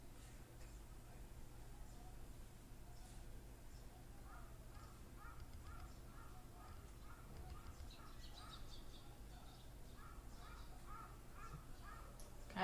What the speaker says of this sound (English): you're gonna have a crow